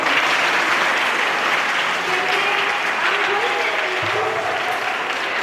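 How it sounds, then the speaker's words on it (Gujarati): An audience at a 2024 school literature and arts festival on the S.S. Gajera campus applauds students, a dense, continuous clapping that holds steady throughout. "સૌથી પહેલા તો આપણે જે વિદ્યાર્થીઓએ શીઘ્ર વક્તૃત્વમાં ભાગ લીધો છે ને એના માટે આપણે તાળીઓ પાડવી જોઈએ."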